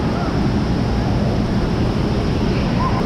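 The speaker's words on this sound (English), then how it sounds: "And here come the waves." Waves surging in an indoor wave pool at a waterpark in Grapevine, Texas, heard as a steady, loud wash of churning water echoing through a large hall, continuous across the moment with no voices.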